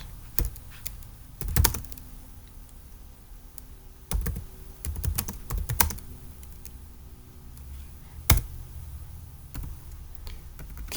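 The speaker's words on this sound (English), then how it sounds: "This little tiny keyboard is giving me troubles." Scattered keystrokes and bursts of clicks tap on a tiny computer keyboard, irregular and close, with quiet gaps between clusters and no talking.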